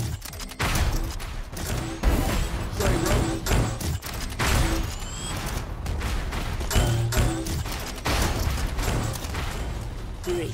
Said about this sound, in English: The rocket launcher. I hate rocket launchers.